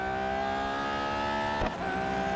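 Engine of an Audi LMP prototype race car in Real Racing 3, a steady high-pitched drone with strong harmonics held throughout, briefly dipping with a short burst of noise near the end.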